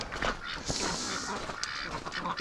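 Ducks and geese in a breeding pen call with a steady stream of quacks and honks, loud and close, continuing throughout without speech.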